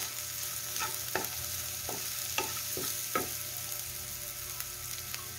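Carrots with garlic and ginger sautéing in a pan, a soft steady sizzle broken by several sharp scrapes and taps as the ingredients are stirred.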